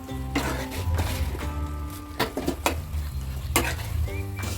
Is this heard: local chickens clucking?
no